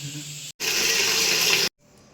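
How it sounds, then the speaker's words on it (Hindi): Tap water gushes steadily into a sink or tub while a pile of dirty clothes is washed, loud and close, with a short break before it and a quieter trickle after it stops. "आज जितना भी कपड़ा गंदा है वो भी साफ़ करना है"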